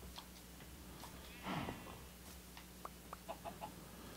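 Chickens in a video game farm cluck in short, faint, scattered calls over a steady low background hum, with a brief louder flutter partway through.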